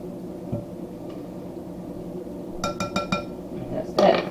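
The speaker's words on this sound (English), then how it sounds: "And we whisk it in." A whisk stirs cocoa powder into chocolate bundt cake batter in a bowl, giving a short burst of quick, close metallic clinks against the bowl near the end after a quiet stretch.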